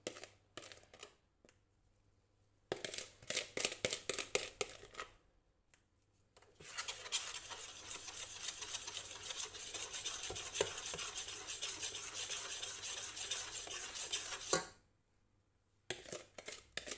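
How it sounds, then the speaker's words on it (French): Sugared egg yolks and lemon juice are stirred in a saucepan, a steady close scraping and swishing that runs for several seconds after a few brief bursts of stirring, then stops. "Il ne faudra pas oublier de remuer continuellement."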